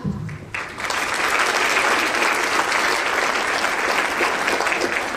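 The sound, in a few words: audience applause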